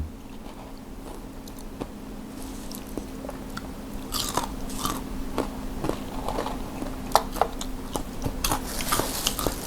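Crunchy, spicy chicken tendon snack being chewed: repeated close crisp crunches and bites, growing denser and louder toward the end, with no talk.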